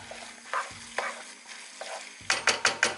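Rice for Thai-style nasi goreng sizzles in a hot pan while being stirred, with regular scraping strokes that quicken into several sharp, close scrapes toward the end, no voices.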